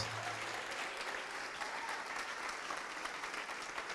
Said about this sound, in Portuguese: Vamos aplaudir porque está vindo, vamos aplaudir.